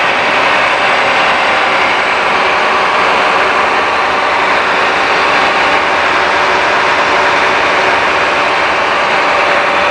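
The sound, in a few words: Blue Bird bus ISC diesel engine idling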